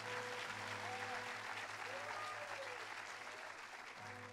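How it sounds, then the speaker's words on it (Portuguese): A congregation applauds during a church service, sustained heavy clapping from a large crowd with a low musical hum underneath and faint voices mixed in. "se é para aplaudir, aplaude com vontade"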